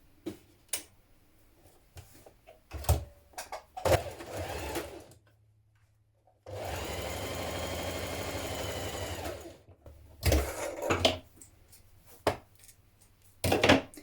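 A sewing machine stitches a shoulder seam on a trapeze dress in one steady, rapid whirring run of about three seconds, set among quiet handling clicks and fabric rustles.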